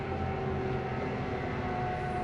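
A skid steer with a fault runs as a steady, loud mechanical drone with a persistent whine and low rumble, unbroken throughout with no talking.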